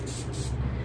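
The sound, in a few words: spray bottle spraying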